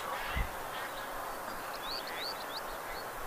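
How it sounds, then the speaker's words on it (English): Several short honking duck calls from the hunting game Duck Dynasty sound in quick succession over steady background hiss, moderately loud and close, with a dull thump near the start and no talking. "you need to use the greet call instead of the feed call"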